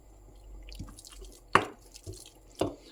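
Small splashes of water drip into a pan of pearl barley with pumpkin, three or four distinct wet plops close by in an otherwise quiet kitchen.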